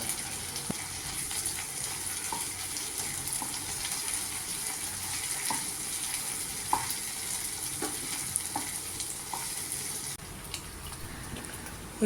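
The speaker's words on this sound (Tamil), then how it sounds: "போட்டுட்டு இதையும் அதோடு சேர்த்து நல்லா வதக்கலாங்க." Steady sizzling of dried anchovies sautéing in a pan, with occasional stirring clicks and scrapes throughout.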